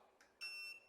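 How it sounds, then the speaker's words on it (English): A motorised curtain track motor gives a single short electronic beep, faint and brief, preceded by a soft click. "Press that once and the motor will beep."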